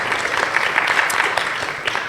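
A crowd at a live discussion event claps in steady, moderately loud applause, a dense patter of many hands sustained throughout.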